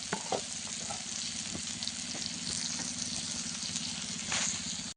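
Tomatoes sizzling in a hot pan after salt is added, a close, continuous frying hiss with soft stirring scrapes and occasional louder bubbling bursts, with no talking.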